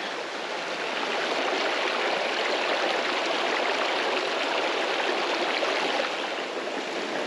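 A creek flows steadily beside a shaded forest camp spot under big cedars, a constant broadband rush of moving water that stays even and close throughout with no voices.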